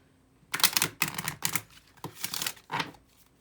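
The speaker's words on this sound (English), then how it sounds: "Wait, I want to do one more shuffle." Several quick, crisp bursts of tarot cards being riffled and snapped together, close by, with short pauses between them.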